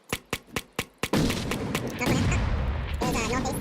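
Grenades detonate in the PUBG battle game: a quick run of five sharp, evenly spaced cracks, then a loud, sustained rumbling blast with further booms that rolls on to the end.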